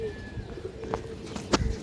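Big-sized, healthy pigeons in a fancier's collection give soft, low coos close by, a couple of short throaty calls over a faint room background with a brief knock near the end.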